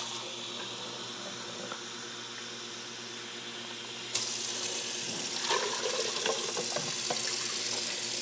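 Water runs steadily from a tap, then gets louder and splashier as it pours into a cooking pan and hits the surface, with no voices.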